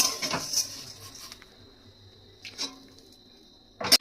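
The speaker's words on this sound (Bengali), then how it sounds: "এবার এটা আমি একটা পাত্রে নামিয়ে নেব চিড়ে ভাজাটা" Dry-roasted flattened rice (chira) is tipped from a pan into a bowl, with a few soft scraping and clinking touches of utensil on metal, brief patter between them and quiet gaps.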